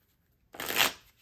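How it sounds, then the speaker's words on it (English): Playing cards shuffled back into a deck during a card-draw game: one quick, crisp riffle of cards, close and fairly loud, lasting under a second after a brief silence, with no voices. "I'm gonna shuffle that 7 of hearts back in"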